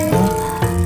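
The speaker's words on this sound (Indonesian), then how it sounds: "Pertama, ini oyek dicuci sampai bersih, direndam sebentar" Oyek, dried cassava rice, being rinsed in water, with a steady close splashing and trickling wash throughout, no voices.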